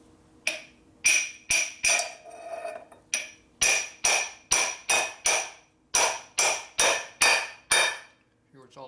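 A punch is struck repeatedly with a hammer to drive a part into a 1957 Harley-Davidson Panhead cylinder head being converted for a drag bike. About fourteen sharp, ringing metallic blows land close and loud in a steady rhythm, with no talking.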